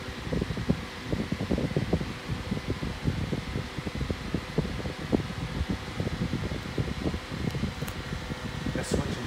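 Two small 8-inch desk fans, a 1970s Lyvia and an unbranded 1980s model, run together with a steady close whir and fluttering airflow rustle that stays even throughout.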